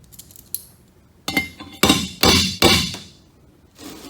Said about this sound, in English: So I'm listening for a change in pitch with the hammer